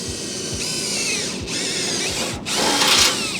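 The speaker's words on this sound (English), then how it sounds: "I really like these drill bits." A power drill whines loudly in three bursts separated by short pauses, the motor pitch shifting as it bites into material, while fitting a water-to-air intercooler on a Subaru WRX drag car.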